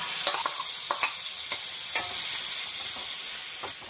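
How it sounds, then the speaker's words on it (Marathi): Soaked moth beans tip into hot oil with turmeric in a pan, giving a steady sizzling fry with several stirring scrapes at an even rhythm, close by, with no talking. "तेलात थोडीशी हळद टाकू आणि भिजवलेली मटकी टाकून घेऊ."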